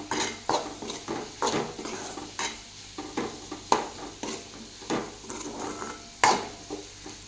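Wild vegetable being mixed with tomatoes in a pan, a utensil scraping and clacking against the metal in irregular strokes, close and fairly loud, with a faint sizzle underneath.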